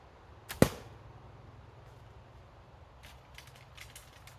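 A single arrow loosed from a handmade bow outdoors: one sharp snap of the string near the start, then quiet ambience with faint rustles toward the end.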